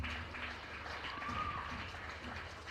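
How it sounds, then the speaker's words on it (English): Crowd applause for exhibitors at a county fair beef show, faint and distant, a steady wash of clapping throughout. "let's give a big round of applause to all of our exhibitors"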